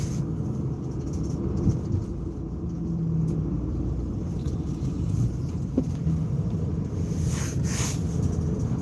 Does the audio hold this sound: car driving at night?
yes